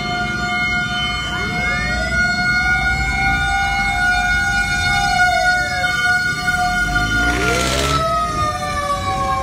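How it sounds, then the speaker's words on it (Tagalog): Several fire truck sirens wail and sweep up and down while arriving at a fire at Almeda corner Tayuman, Santa Cruz, Manila, loud and overlapping over street rumble, with a burst of horn-like blare near the end and no talk. "Kaso sunod-sunod pa rin po yung dating ng mga fire truck eh."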